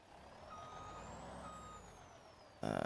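Heavy truck in Farming Simulator 25 idling with a steady engine rumble, two short reversing beeps in the middle, then a loud burst of air-brake hiss at the end.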